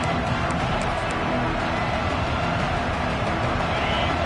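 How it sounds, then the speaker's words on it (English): A loud, continuous roar of a stadium crowd in a college football video game, Iowa versus Indiana, steady and dense throughout with no distinct voices standing out. "This crowd bringing the energy and noise early."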